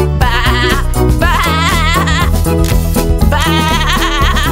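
Sheep bleating comes through loud and repeated in a children's animal sounds song, with the wavering cries set over a bright, busy musical backing.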